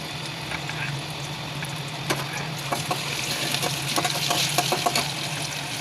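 Chopped onions and garlic paste fry in a pan with a steady soft sizzle close by and a few faint clinks of stirring.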